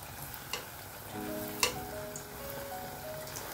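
Paniyaram batter fries in hot oil, giving a soft, continuous sizzle with faint crackles and a couple of small clinks, close and quiet with no talking.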